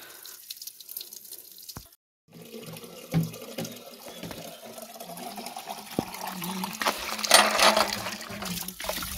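Spring water flowing from the ground pours steadily into a container outdoors in an Uttarakhand village, a continuous splashing trickle with a few louder clunks and splashes, close to the microphone.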